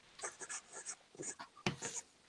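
A pencil scratches in quick irregular strokes while someone draws, faint and close, with short pauses between bursts of scraping.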